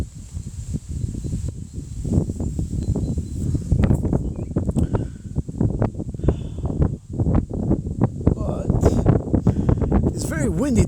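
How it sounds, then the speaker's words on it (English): Steady outdoor wind at a lakeside buffets the microphone in low rumbling gusts, with a person talking over it throughout. "It's very windy today, man."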